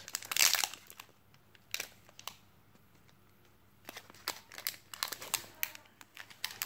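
Foil wrapper of a Pokémon Sun and Moon booster pack torn and crinkled open, sharp crackling bursts in several clusters separated by quiet pauses, close by.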